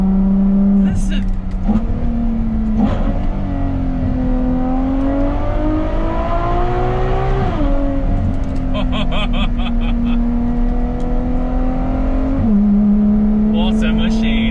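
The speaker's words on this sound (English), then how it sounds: "the sound of the exhaust reverberates off the wall back into the cabin of the car" Ferrari F12 TDF V12 engine and exhaust on a Scottish driving road, heard from inside the cabin, loud sustained revving with gear changes and rising and falling pitch, exhaust echoing off a wall, and a voice talking over it.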